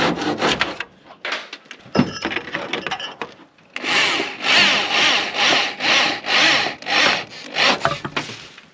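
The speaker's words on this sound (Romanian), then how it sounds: "mai trebuie tăiat un pic din capătul la grinda asta mică" Hand saw cutting through the end of a small wooden beam while preparing a cow barn for winter, with rhythmic back-and-forth strokes that start out uneven and then settle into a steady, loud, close pattern.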